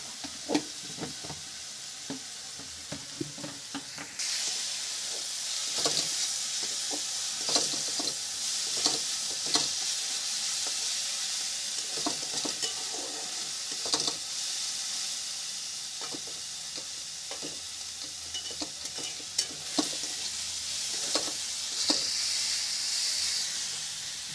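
Onions for a Bengali-style chicken curry fry and sizzle in a pan with a little sugar, a steady hiss running throughout while a spatula scrapes and taps in frequent short strokes, loud and close.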